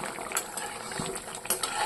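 Dry fish curry with taro simmering and being stirred in a pan: a steady bubbling, sizzling hiss with a few light scrapes and clinks of a utensil against the pan.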